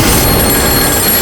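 A telephone rings continuously, a loud electronic bell tone filling the brief moment with no other sound.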